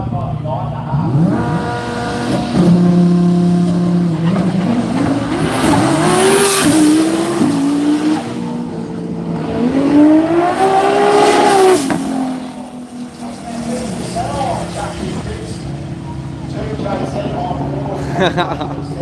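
A Lamborghini and another race car run side by side in night qualifying, engines roaring loud and close, swelling and fading as they pass, with tire squeal and an excited commentator talking over them.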